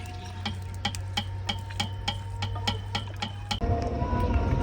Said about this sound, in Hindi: मिक्स कर लेते हैं।